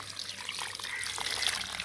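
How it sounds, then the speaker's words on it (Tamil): Water poured onto rose plants at home, a soft, steady trickle and splash that runs continuously at moderate level with no talking over it. "சரிம்மா, வாங்க அப்படியே செடிக்கு தண்ணி ஊற்றினே பார்க்கலாமா?"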